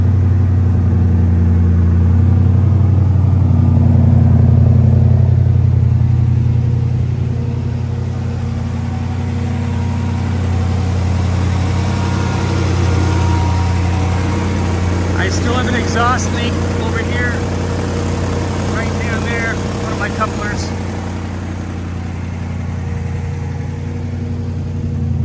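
A car engine fired up for the first time after a rebuild settles into a loud, steady idle with a deep, even rumble that runs unbroken for the whole stretch, close to the listener.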